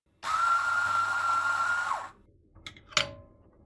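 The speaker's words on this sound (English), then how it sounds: "We grind out a tiny bit, throw it away," A Mahlkönig E64WS coffee grinder whirs loudly at a steady pitch for about two seconds, then winds down, followed by a few light clicks and taps.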